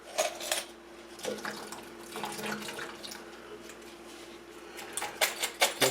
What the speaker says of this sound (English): Just let that water drain out of there.